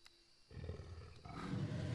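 A creature's Raging Roar ability in the Spore video game erupts as a deep, growling roar that swells and builds in loudness over two seconds, with no talking.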